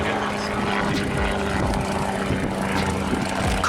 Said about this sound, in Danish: Now Alf is doing a moment roll, 4 points